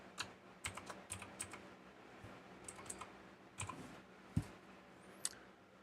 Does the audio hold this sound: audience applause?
no